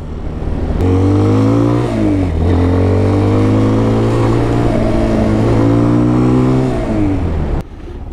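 A Honda dual sport motorcycle engine drones loud and close while riding, its pitch climbing and dropping through gear changes, then easing off near the end, with no talking.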